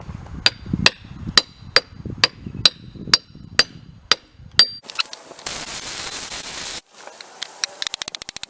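A hammer drives a bearing onto a 35-spline axle for a stock Ford 9-inch differential, sharp metallic blows ringing out one by one at a steady pace, close and loud, followed by a burst of hissing noise and a quick run of lighter taps.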